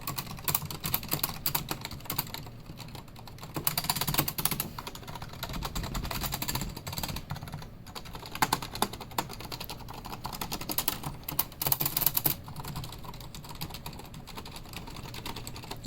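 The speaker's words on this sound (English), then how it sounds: "this is what the Strafe RGB sounds like" A five-year-old Corsair Strafe RGB mechanical gaming keyboard is typed on steadily, producing a close, continuous patter of clacky keystrokes with occasional heavier strikes, with no voices present.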